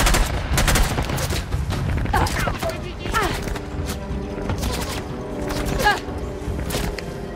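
Dense gunfire bursts with thuds and impacts from a shootout in the game Uncharted: The Lost Legacy, a steady rattle of shots running throughout under a busy, loud mix.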